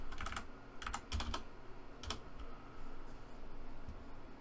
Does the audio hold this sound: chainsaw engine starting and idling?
no